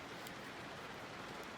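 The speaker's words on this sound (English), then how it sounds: "So enjoy the rain." Rain falls outdoors as a faint, even patter and hiss, steady throughout with no voices.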